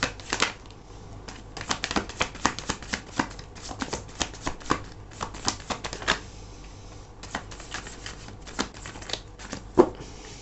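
Tarot cards being shuffled by hand, a rapid series of crisp riffling and snapping bursts running steadily throughout, close and moderately loud with no talking.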